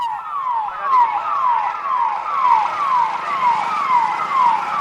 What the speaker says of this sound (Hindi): यहां पर पुलिस के सायरन की आवाज आपको मिलेगी।